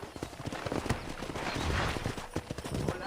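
Horse hooves clip-clop in steady rhythm through the Red Dead Redemption game world, close and fairly loud over a busy background of game ambience and faint voices.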